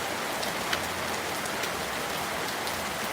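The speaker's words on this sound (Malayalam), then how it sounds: "ഇന്നും മഴ തോരാതെ നല്ല തകർത്ത് പെയ്യുകയാണ്" Heavy rain pouring down steadily, a dense, loud hiss of countless drops hitting surfaces, continuous and unbroken.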